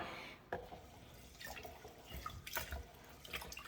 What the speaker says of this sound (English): I'm first just going to wash my rice just to get rid of all the debris